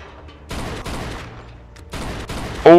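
Gunshots in the video game Mafia 2: a few sharp shots ring out in quick succession against a quiet background, loud and close, with no talk over them.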